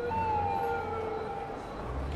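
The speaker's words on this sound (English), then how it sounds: "Ambulance going by there." An ambulance siren in the city-building game Cities: Skylines, a wailing tone sweeping steadily as the vehicle passes, fairly loud over a busy traffic bed.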